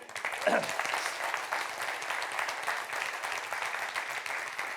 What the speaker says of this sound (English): I'm going to give you a second opportunity for like a really loud round of applause